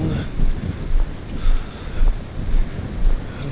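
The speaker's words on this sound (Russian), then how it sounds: "Ветерок, волны." Wind and ocean surf at a Florida jetty, a steady broadband rush with gusting swells rising and falling every half second or so, fairly loud and continuous with wind buffeting the microphone and no talk.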